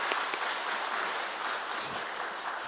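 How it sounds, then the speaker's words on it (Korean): A church congregation applauds the choir, a dense, even wash of many hands clapping that holds steady throughout at moderate distance, with no speech over it. "박수로 한 해 수고 많으셨습니다"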